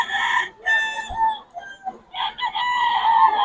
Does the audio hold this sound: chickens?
yes